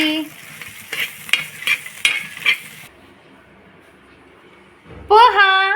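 A spoon stirs green chili kharda in a pan, with several scraping clinks over a soft sizzle for a few seconds, then a pause and a brief louder clatter at the end.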